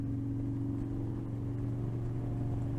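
A motorcycle engine drones steadily during a ride to work, a low continuous hum with a strong rumble and faint road noise that stays level throughout.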